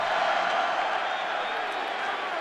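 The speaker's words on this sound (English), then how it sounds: "the crowd making it very difficult" A stadium crowd roars at a college football game between NC State and Florida State in 2013, a loud, sustained wall of crowd noise with no breaks.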